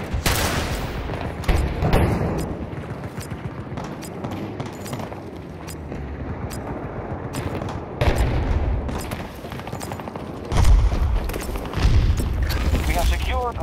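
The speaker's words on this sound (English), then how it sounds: "Grenade going out! Throwing grenade!" Explosions and gunfire in the shooter game Battlefield, with a grenade blast among bursts of rifle fire, heavy booms landing around 8, 10.5 and 12 seconds over continuous battle noise, while voices talk across the fighting.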